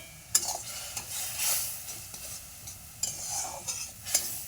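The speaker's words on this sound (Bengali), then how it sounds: "চিনি দেওয়া হয়ে গেছে, একটু ভালো করে নাড়িয়ে নেব।" Sugar syrup cooking in a pan for basnar dhokla is stirred with a utensil, giving soft scraping and clinking strokes over a faint steady sizzle, with no talking.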